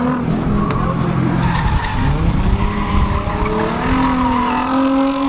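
Cars drift at a drift event, their tires squealing and skidding loudly over roaring engines, with rising and falling screeches layered close by.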